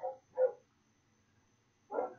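A dog barks outside in three separate bursts, two close together and then one more after a pause, heard at a moderate distance with no talk over it.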